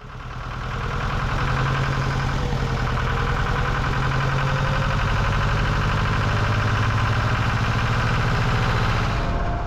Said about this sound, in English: the engine was still struggling to get to higher RPMs, especially in forward gear